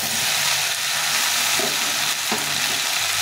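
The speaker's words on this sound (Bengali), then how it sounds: "আদা রাঁধুনির সঙ্গে ভালো করে সবজিটাকে ভেজে নিতে হবে।" Vegetables frying steadily in a hot pan with ginger and radhuni, a dense continuous sizzle with occasional stirring scrapes, close and loud throughout.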